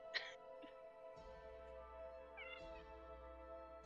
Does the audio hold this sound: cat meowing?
yes